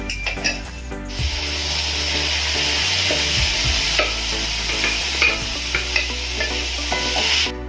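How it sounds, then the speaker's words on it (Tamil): Boiled green gram is stirred into sautéed onions and cumin in a pan, a continuous sizzle with repeated scraping strokes of a spoon against the metal, close and steady throughout with no talking. "பச்சை பயிரை நல்லா சேர்த்து கலரிக்கலாம்"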